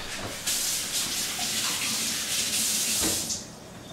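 Tap water runs steadily for a few seconds as hands are washed at a kitchen sink during tuna preparation, a broad close hiss with no talking.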